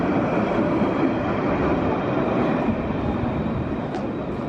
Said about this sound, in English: Going through the middle of the city is a tram.